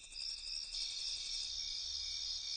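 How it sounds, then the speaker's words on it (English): Steady high-pitched cricket chirping, a continuous pulsing trill with no other sounds, fairly quiet and even throughout. "crickets."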